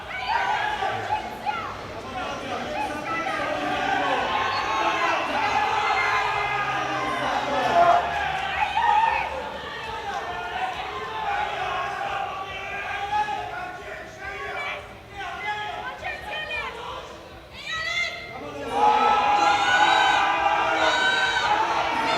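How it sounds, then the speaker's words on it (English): A crowd at a European classic powerlifting championship cheering for a Maltese lifter attempting a heavy deadlift, with loud, sustained shouting and whooping that rises and falls, peaking near the end, under an excited commentator's voice. "Big support here in the crowd for the Maltese athlete."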